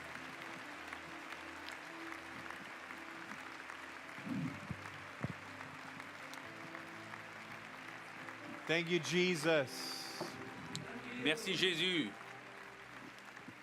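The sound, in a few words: audience clapping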